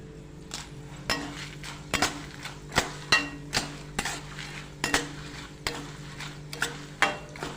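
A metal spoon clatters and scrapes steadily against a pan as dal fries with chilies for Tamil Nadu tamarind rice, the strokes falling in a regular rhythm over a faint, constant sizzle.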